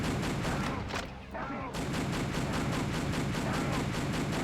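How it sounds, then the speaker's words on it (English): Rapid pistol gunfire in a video game during a prisoner rescue, steady repeated shots in a dense loud stream with a brief dip, over constant game noise. "I'll use my pistol to save you."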